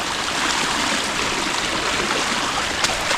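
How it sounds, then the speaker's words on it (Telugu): A forest stream on the Andharban trek in Maharashtra rushes and gurgles in a steady, close, unbroken flow with no voices over it. "చూడండి మొత్తం వాటర్ వెళ్తూ ఉన్నాయి."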